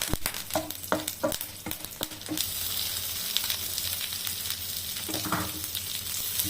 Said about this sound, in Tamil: அந்த வெங்காயம் நல்லா வதங்கட்டும்